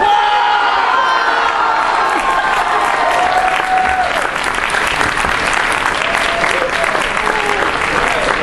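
An audience applauds and cheers loudly after a Klingon-language stage play, steady dense clapping with whoops and shouts throughout, close and sustained.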